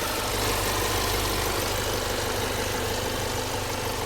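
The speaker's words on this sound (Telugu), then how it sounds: "మీకు ఇంజన్ సౌండ్ వినిపిస్తా, ఒకసారి చూడండి." A 2022 Hyundai Creta SX with a 1.5-litre diesel engine sits idling, giving off a constant, deep, throbbing drone with a slight diesel clatter, close and unbroken for several seconds.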